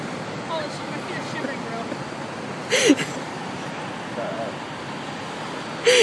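Ocean waves wash onto a beach with a steady, broadband rush and soft surges, moderately loud, with a couple of brief louder splashes or knocks standing out.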